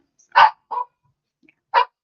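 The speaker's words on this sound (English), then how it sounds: "do they also have dogs that bark during our videos?" A dog in a home in Columbus, Georgia, gives three short, loud, close barks, two quickly together and then one more after a pause, with nothing else heard.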